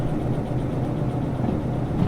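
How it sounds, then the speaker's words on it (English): A locomotive engine in the Derail Valley train simulator gives a steady, loud, low diesel drone that holds even and unbroken, with no voices. "I didn't even hear a difference in the engine there."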